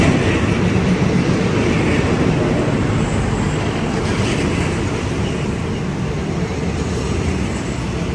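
A train passes through Chiang Rak railway station in Thailand, a loud continuous rumble and roar that holds steady throughout, close by with no clear talk.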